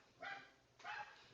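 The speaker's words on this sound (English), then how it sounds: "This is like a little yapper dog." Small dog yapping at a distance, two short sharp yaps about half a second apart, faint and heard through a headset microphone with no talking.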